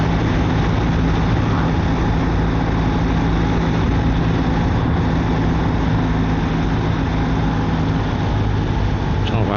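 A BMW R1300RT motorcycle with automatic shift assistant riding at speed, a steady loud engine drone with heavy wind roar throughout, close and continuous, with gear changes hard to pick out.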